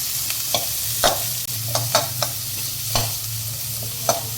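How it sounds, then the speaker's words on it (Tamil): Green chillies and curry leaves sautéing with onion in a pan while being stirred, a steady low sizzle broken by repeated sharp scrapes of the spoon against the pan, close and alone with no talking. "பச்சை மிளகா, கருவேப்பிலை. இதை வந்து ஒரு வணக்கிட்டு"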